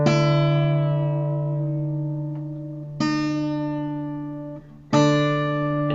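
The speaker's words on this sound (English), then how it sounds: "you need to tune this 1st string down to a D as well" A guitar's first string is plucked and detuned down to D, ringing out three times with long sustaining decays, each new pluck striking clearly with no talking.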